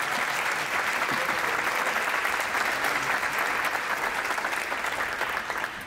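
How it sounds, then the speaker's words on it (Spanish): A live audience at a tribute concert claps for a guitarist, dense sustained applause filling the room at a steady level and fading a little at the end. "por favor, un gran aplauso."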